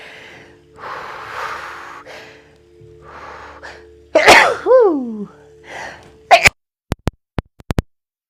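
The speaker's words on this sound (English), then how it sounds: "Oh, I'm going to sneeze." A few breathy inhales build up to one loud, sharp sneeze, followed by several quick clicks and taps.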